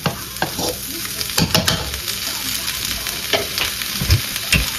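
Vegetables stir-fried in a pan for a home-cooked Filipino meal, a steady sizzle and frying hiss with repeated scraping and clacking of a utensil against the pan, close and continuous with no talking.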